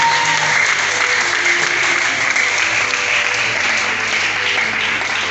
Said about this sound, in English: clap your hands together